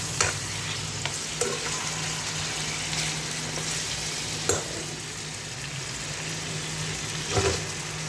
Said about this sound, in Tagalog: Tayo ay maggigisa muna ng manok.